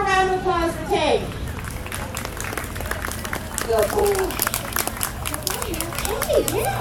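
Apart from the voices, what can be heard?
audience applause for Tank the horse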